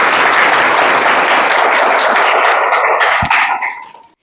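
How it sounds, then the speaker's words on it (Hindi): A classroom group applauds a student after a geography lesson answer, a dense, loud burst of many hands clapping together that holds steady and then quickly fades out at the end. "इनके लिए तालियां हो जाए।"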